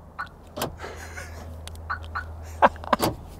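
A few short, sharp electronic chirps from a 1990s aftermarket remote alarm on a Chevy Impala SS, spaced irregularly over a low, steady engine hum.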